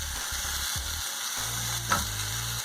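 Pineapple grilling in an uncleaned frying pan still coated from fried pork chops, a close hissing sizzle with a few spatula scrapes and a brief sharp knock near the end.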